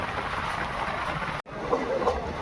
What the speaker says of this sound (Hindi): तो अब ट्रेन स्पीड पकड़ चुकी है।